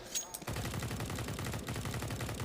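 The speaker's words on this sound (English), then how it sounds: "This is some CQC sniper fights from both sides even." Rapid gunfire in a Counter-Strike match between professional teams at a DreamHack tournament: dense, fast repeated shots in a continuous burst after a brief pause, fairly loud, with faint commentary underneath.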